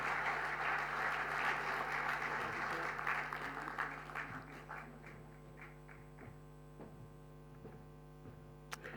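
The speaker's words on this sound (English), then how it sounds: "A warm applause." Audience applause at an aviation industry event at Cluj Avram Iancu International Airport, a broad sustained clapping that thins into scattered claps toward the end over a steady mains hum.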